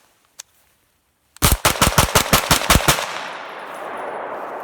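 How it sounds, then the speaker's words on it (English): Rapid fire from a Foxtrot Mike AR9 9mm pistol: a quick burst of about ten loud, evenly spaced shots, close and alone, followed by a lingering echo. "Let's do some rapid fire."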